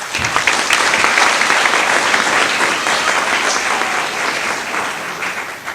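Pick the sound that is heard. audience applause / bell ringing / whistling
audience applause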